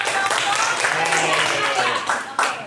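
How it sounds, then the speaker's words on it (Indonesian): Clapping from a classroom audience after a student presentation, a short burst of hands clapping mixed with voices and chatter. "kita berikan tepuk tangan untuk"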